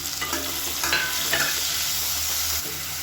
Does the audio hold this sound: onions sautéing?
yes